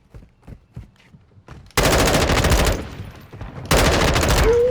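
Two bursts of rapid automatic gunfire from a weapon in Call of Duty Modern Warfare 2 ring out loud and close, each about a second long, after a stretch of faint clicks and movement.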